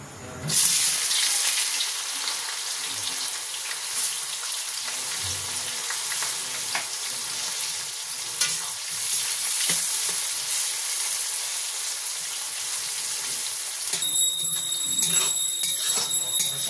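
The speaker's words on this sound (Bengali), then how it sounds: "এবার পেরেস্তাটা ভেজে নিই।" Onions frying in hot oil for chicken biryani, a steady dense sizzle and crackle running the whole time, close and loud, with occasional stirring scrapes and a brighter spitting burst near the end.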